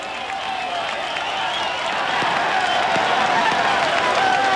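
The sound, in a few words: crowd watching a cycling race stage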